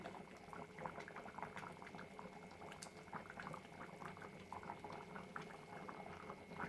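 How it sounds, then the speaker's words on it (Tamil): Catfish curry (keluthi meen kuzhambu) boiling in a pot over full flame, a quiet steady bubbling with dense popping and gurgling throughout, close up and without speech. "ஃபைனலாக வந்து ஃபுல் ஃப்ளேமில் வச்சு நீங்கள் ஒரு கொதி வந்ததும் இறக்கிடலாம்"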